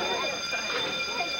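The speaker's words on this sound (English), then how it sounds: "did you pull that fire alarm?" A school fire alarm rings as a steady, shrill, continuous electronic buzz at an even loudness, with faint voices murmuring underneath.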